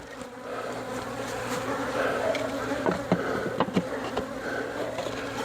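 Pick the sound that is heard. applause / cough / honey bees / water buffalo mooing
honey bees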